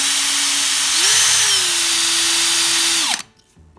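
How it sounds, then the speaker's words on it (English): Electric razor blades, from a Remington or Norelco rotary head, spun on a honing stone by a power tool: a loud, steady motorized whine with a brief rise in pitch, then a sudden spin-down and stop near the end. "we'll hone them by putting it on the honing stone. Spin it in the direction of the cut."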